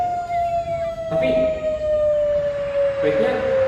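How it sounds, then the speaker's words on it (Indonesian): Warning siren sounding at a beach, one sustained tone gliding slowly downward, steady and fairly loud, with brief bursts of other noise in the background. "Jangan-jangan itu suara peringatan bahaya."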